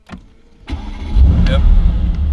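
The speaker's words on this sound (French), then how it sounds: "Déjà pour démarrer cette voiture, c'est très simple." A Mercedes AMG GT-S Edition 1 engine cranks and fires up close by, rising from a starter whir to a loud, full idle rumble over about two seconds.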